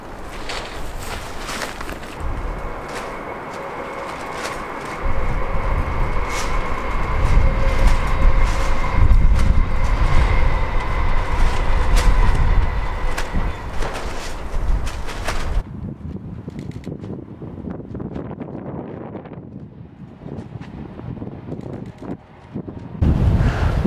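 A TransPennine Express Nova passenger train passes nearby between Huddersfield and Marsden, its steady low roar and wind buffeting building over several seconds, then easing to quieter background noise as it moves away.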